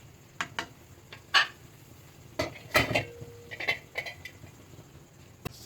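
Metal cookware clanks as a lid goes onto a pan of chicken, several sharp, scattered clinks and knocks close by, with quiet gaps between them.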